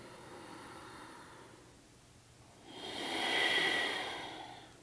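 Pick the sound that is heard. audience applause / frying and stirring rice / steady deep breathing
steady deep breathing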